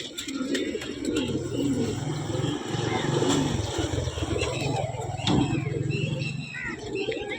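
Low, steady cooing from several purebred pigeons feeding on scattered grain fills the air, with faint chirps and flutters over a constant background murmur.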